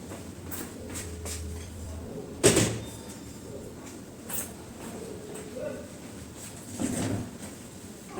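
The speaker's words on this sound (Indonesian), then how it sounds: "menutup pintu dulu ya." Indoor door pulled shut in a clinic room, one clear thud of the closing door near the start, followed by quieter room noise with a few soft knocks and movements.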